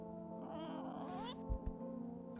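A cat in the horror video game No I'm Not A Human gives a drawn-out meow over a low background hum, followed by two soft thumps.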